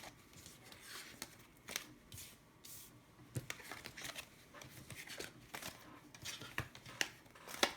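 Tarot cards being shuffled by hand for a general reading, a soft papery riffling with scattered sharper flicks and taps, fairly faint and close, with no talking.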